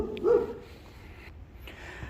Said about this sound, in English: Sorry about the dogs in the backyard.